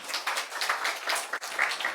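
A church congregation claps together in a sustained burst of applause, fairly soft and slightly distant, filling the room evenly.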